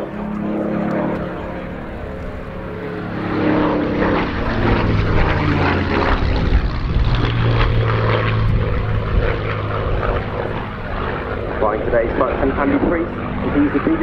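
Mark 9 Spitfire in desert camouflage flying at an RAF air display, a steady propeller-engine drone rising and holding loud throughout, with someone narrating over it.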